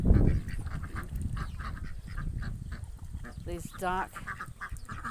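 Farm ducks quack and honk nearby in repeated bursts, one raspy call standing out clearly, while a person speaks softly over them.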